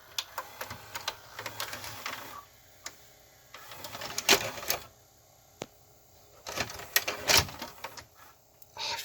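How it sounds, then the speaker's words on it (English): A Funai DVD mechanism in a 2011 Magnavox DVD/VCR combo ejects its tray with a series of faint, close mechanical clicks, whirs and ticks spread irregularly over several seconds. "DVD player here. Delightful Funai mech. Let's watch it eject."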